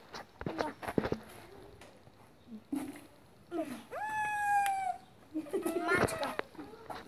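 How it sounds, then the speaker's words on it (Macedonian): A cat gives one clear, drawn-out meow near the middle, close and fairly loud, between scattered voices and clattering sounds. "Мачка."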